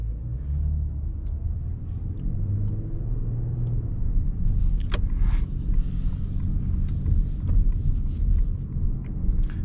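A 2021 Mercedes S500 long-wheelbase saloon driving through city streets, heard as a low, steady cabin rumble of engine and road noise with a few faint clicks and passing sounds, no voices.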